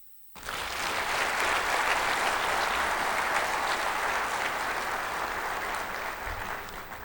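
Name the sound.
audience applauding at insurance assembly opening ceremony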